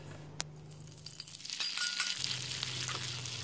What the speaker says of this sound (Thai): ก่อนอื่นนะคะเราก็จะนำเส้นมาผัดซะก่อน